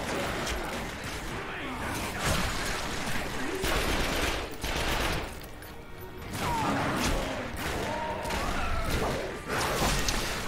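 Bursts of machine gun fire in the video game The Darkness 2, with crashing impacts mixed in, running under someone talking in German throughout.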